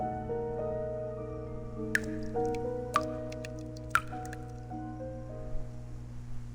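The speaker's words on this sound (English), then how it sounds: "Sounds like dripping water." Water drips in the video game Reverse: 1999, with a few sharp, evenly spaced drops landing about a second apart over a steady, sustained musical drone.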